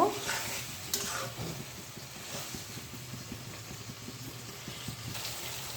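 Oil with turmeric, salt and chili powder sizzling in a pan as the spices are fried down, a steady close frying crackle with occasional stirring scrapes and no voices.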